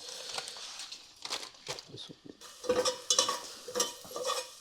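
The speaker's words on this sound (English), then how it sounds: "Put some more oil. First we put some cumin seeds." Cumin seeds frying in hot oil in a pan while chicken curry is cooked, soft sizzling with small crackles and pops, close and fairly quiet, with occasional stirring sounds.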